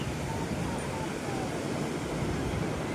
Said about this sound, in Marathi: आता आम्ही आलो आहे काशीद बीचला, तुम्हाला दाखवतो बघा